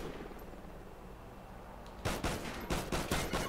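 Gunfire from a video game shooter, single shots cracking out, faint and distant at first, then a quick run of five or six loud, sharp shots spaced in an uneven rhythm, with no voices.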